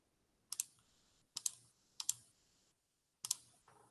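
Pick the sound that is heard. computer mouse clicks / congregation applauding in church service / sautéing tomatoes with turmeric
computer mouse clicks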